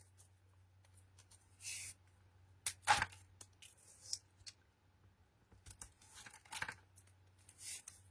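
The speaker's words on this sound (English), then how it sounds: "Let's bring in our tape again." Tape is pulled and torn while gift boxes are made, heard as quiet, scattered ripping and tearing bursts with a crisp snap partway through, close to the microphone in a hushed room.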